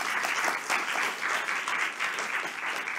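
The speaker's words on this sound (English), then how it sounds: "Give her a warm applause, Nnedinma." A lecture audience at a university talk on LGBT rights in Nigeria claps warmly and steadily for about three seconds, dense and even, with no voices over it.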